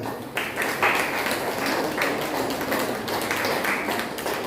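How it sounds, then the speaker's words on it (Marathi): Steady, dense applause from a crowd, continuous throughout with scattered sharper claps standing out. "जोरदार टाळ्या"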